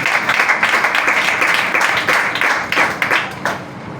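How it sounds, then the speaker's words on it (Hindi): Congregation clapping during a Sunday church service sermon, a loud burst of hand claps with uneven rhythm that fades out after about three and a half seconds. "खुदा के जलाल के लिए जोरदार तालियां"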